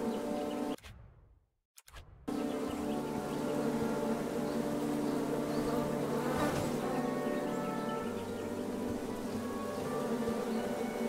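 Insistent bees buzzing steadily around a picnic scene in the video game King's Quest, a dense droning hum with a brief silent gap near the start, then continuous and fairly close.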